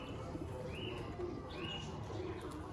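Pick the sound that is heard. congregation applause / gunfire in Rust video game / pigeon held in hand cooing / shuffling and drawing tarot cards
pigeon held in hand cooing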